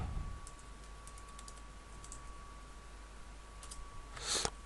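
A computer keyboard being typed on in a quiet room: a short run of light, close key clicks early on, then a louder cluster of clacks near the end over a steady electrical hum.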